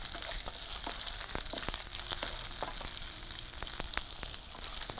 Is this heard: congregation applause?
no